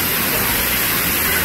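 Waterfall at Ghonsari village in the Konkan, a steady, loud, broadband roar of falling water with no pauses, filling the whole moment.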